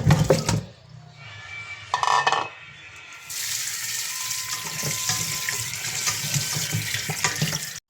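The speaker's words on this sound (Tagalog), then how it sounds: "hugasan natin ang baboy ng malinis na tubig" Tap water runs into a sink as raw pork is rinsed under it, with clinks and splashes before a steady, continuous stream of running water.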